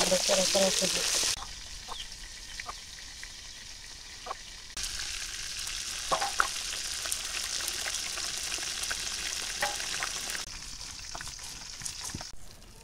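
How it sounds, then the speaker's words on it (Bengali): Fish heads frying in oil in a village kitchen: a steady broadband sizzle runs throughout, louder for the first second or so, with scattered crackles and pops and faint background noises. "মাছগুলো উঠে নিই আর মাথাগুলো সুন্দর করে ভাজতে নিই।"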